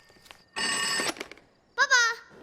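A telephone rings in a single burst of bright, dense electronic tone lasting about half a second, followed by a voice calling out.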